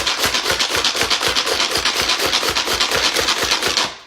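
Food is crushed into fine crumbs by hand for keto chicken parmesan, a steady, fast series of close, dry rasping and grinding strokes repeating evenly for several seconds before stopping abruptly, with no talking.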